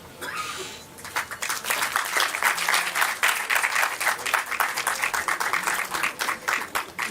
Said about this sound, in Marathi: जोरदार टाळ्या अनुराधाताईंसाठी